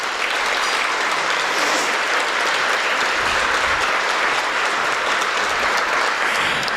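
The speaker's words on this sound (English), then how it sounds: "You can give them all a round of applause." Sustained applause from a breakfast audience at a community safety event in Renton, loud and dense throughout without a break, with no voices standing out above the clapping.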